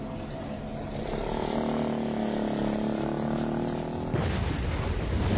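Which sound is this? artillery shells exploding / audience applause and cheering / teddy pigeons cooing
artillery shells exploding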